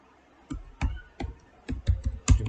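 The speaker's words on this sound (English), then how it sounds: "then type" Typing on a computer keyboard in PowerShell on a PC, a handful of separate key clicks and short bursts with small pauses between them, close by and moderately loud, no voice.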